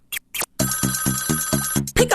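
A Jamster ringtone phone ring plays as a series of rapid, loud electronic bell-like pulses in a steady rhythm, with short sung or vocal fragments just before and after.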